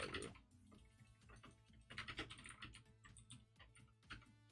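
Typing on a computer keyboard: quiet, quick runs of clicking keystrokes in irregular bursts, fairly close, with no voices.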